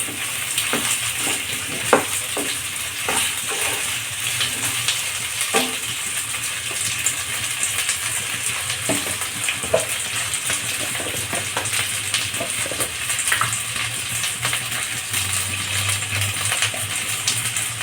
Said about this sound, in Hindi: आलू को चला चला के अच्छी तरह से एकदम फ्राई करना है